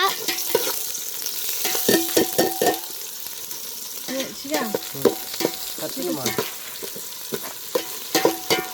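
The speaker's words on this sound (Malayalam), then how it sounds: "നന്നായിട്ടൊന്ന് വതക്കിയെടുക്കാം." Onion sautéing in a pan with cardamom and cloves sizzles steadily while a utensil scrapes and stirs in repeated bursts, close and fairly loud, with no talking.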